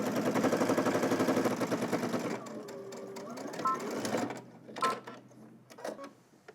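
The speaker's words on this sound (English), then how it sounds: "we're gonna head over to the machine and top stitch from the top to the side seam here using a 1/4 inch seam allowance" A sewing machine top stitches a side seam with a 1/4 inch seam allowance on a Simplicity S3037 garment, running a steady, close whir for a couple of seconds before stopping, followed by faint handling sounds and some talking.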